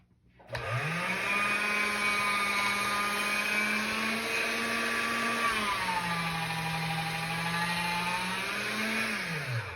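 A motorized pasta machine rolls stiff polymer clay on the same setting, making a steady, loud whirring hum with harmonic tones that dip briefly in pitch midway and then recover.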